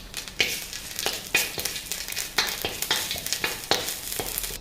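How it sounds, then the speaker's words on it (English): Mustard seeds, urad dal, red chili and vadagam sizzle and crackle in hot oil, loud and close, with a steady frying hiss broken by repeated stirring scrapes and pops. "Let's add the mustard and urad dal, the red chili and the vadagam."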